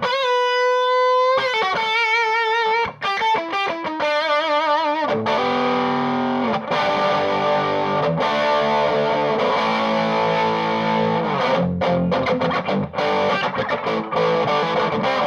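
A Junior-style electric guitar played through distortion opens with clear sustained notes and quick slides, then breaks into thick, loud, driven chords and riffs that continue steadily without any voice.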